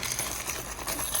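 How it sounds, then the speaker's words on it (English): A bag of screws for construction work being handled, a steady metallic jingling and clinking of loose screws rattling together, close and fairly loud, with no talking. "And this is just a bag of screws,"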